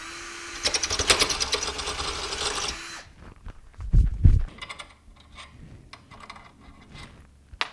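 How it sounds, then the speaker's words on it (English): A drill bores holes through a hardened motorcycle kickstand, a loud high whirring grind for about three seconds, then stops; quieter clunks and taps of handling follow. "Okay, we got all the holes drilled."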